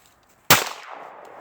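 Half a pound of tannerite detonates outdoors as one abrupt, loud blast, trailing off into a short rumbling echo after a quiet lead-in.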